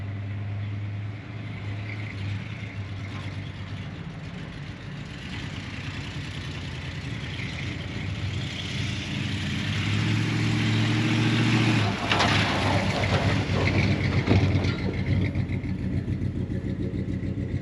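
A Ford Bronco engine running as it is put into drive, a steady low rumble that swells partway through and stays loud to the end.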